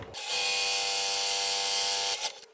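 Sewing machine running a straight stitch through two pieces of fabric, a close steady mechanical whirr that starts abruptly, holds for about two seconds, then stops.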